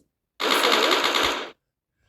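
A single rapid burst of video-game automatic gunfire, loud and close, lasting about a second before cutting off into silence.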